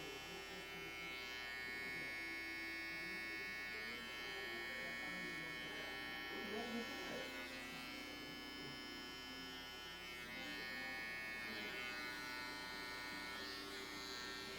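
Electric hair clippers running steadily at a barbershop, a faint, continuous buzzing hum with slight shifts as the blade moves, without speech.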